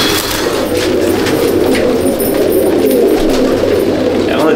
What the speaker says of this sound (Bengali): চটিয়াল পায়রা ছেড়ে শখ করাচ্ছি এবার